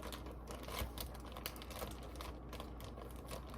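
A resealable plastic bag crinkles in soft, close, irregular rustles throughout, faint and alone without any talking.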